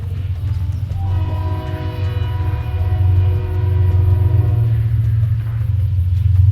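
Train in the video game Fallout: New Vegas blaring its horn, a loud sustained chord holding over a deep rumbling rail noise that grows slightly louder throughout, no speech.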